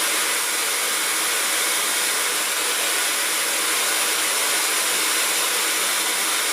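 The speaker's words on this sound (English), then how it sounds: "It is about 64 dB in the second gear." On its second speed setting, a Laifen Swift hair dryer blows a constant, loud, bright rushing hiss over a steady motor whir that never changes.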